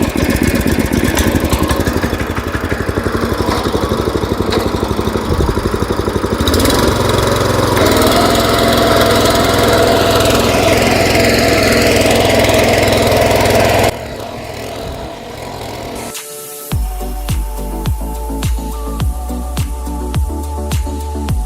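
A tractor ploughs a field for a turmeric crop, its engine droning steadily up close before shifting to a lower, pulsing idle with rhythmic thumps toward the end, no talk over it.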